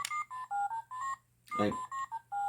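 Tones from a toy cell phone's keypad sound as buttons are pressed, a quick run of short beeps with a brief pause, then a clunk of handling and more beeps.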